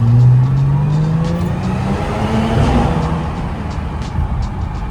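A car drives on the road, its engine droning and rising in pitch as it accelerates, with loud, close tire and road noise and no voices.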